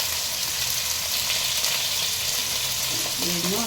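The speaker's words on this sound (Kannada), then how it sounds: "ಮೀಡಿಯಮ್ ಸೈಜ್ದು ಎರಡು ಈರುಳ್ಳಿ ಒಗ್ಗರಣೆಗೆ ಹಾಕ್ಕೊಳ್ತೀನಿ" Onions and curry leaves frying in hot oil for a tempering in a broken wheat bisibele bath, a steady loud sizzle filling the whole stretch with a brief stir of the pan near the end, no voices.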